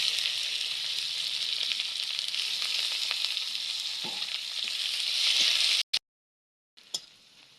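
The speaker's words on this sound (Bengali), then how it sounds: "পেঁয়াজ লাল লাল হালকা ভেজে নিছি" Sliced onions frying lightly in oil after bay leaf and cumin, a steady close hiss and crackle with a few stirring scrapes, cutting off abruptly near the end before briefly resuming.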